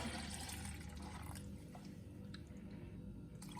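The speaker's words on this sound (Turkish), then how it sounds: "şimdi suyunu ekliyorum" Water poured into a salted brine for homemade cheese, a steady splashing, gurgling flow that runs continuously and close by with no talk over it.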